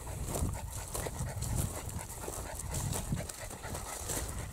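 An old dog pants heavily and laboriously, a rapid, rhythmic breathing close by against faint outdoor background.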